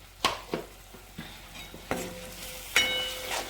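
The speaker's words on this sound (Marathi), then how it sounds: "हे मस्तपैकी मिक्स करून घेऊया लो फ्लेम वरतीच आहोत आपण" Homemade garam masala is stirred in a pan over a low flame: a few sharp scrapes and clinks of a spoon against the metal over a soft, low sizzle, nearby and without talk.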